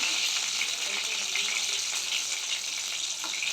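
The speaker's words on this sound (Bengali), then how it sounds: "তেল গরম করে আঁচ কমিয়ে দেবেন তারপরে বাড়িয়ে দিয়ে আস্তে আস্তে এরকম চেপে চেপে সুন্দর করে ভাজবেন" Hot oil sizzles and crackles steadily as yardlong bean fritters fry, a continuous bright hiss with small pops throughout.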